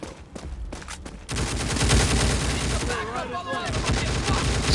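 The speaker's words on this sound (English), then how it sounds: "The shooting in this is pretty good, but the recoil is very heavy." Gunfire in an indie shooter game built in Dreams: a few sharp shots, then sustained rapid automatic fire, loud and close, with a voice talking over it.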